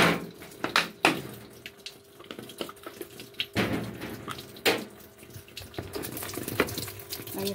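A washing machine drum fills with water in a steady, gushing stream, with splashes and a few clunks. Nobody speaks.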